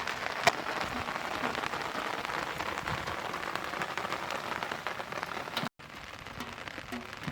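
Heavy downpour pours steadily outdoors, a dense close hiss of drops striking surfaces with a few sharper splats, broken by a brief cut near the end before the rain continues.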